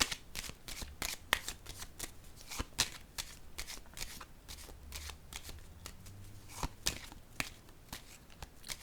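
Playing cards being shuffled by hand for a card reading, a string of soft riffling flutters and crisp slaps at uneven intervals, close and quiet, with no speech over it.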